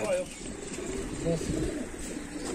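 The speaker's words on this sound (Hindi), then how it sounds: "गोल्डन कबूतर है।" A golden pigeon gives soft, low coos in short bursts, faint and close, under light background noise and a murmur of voices.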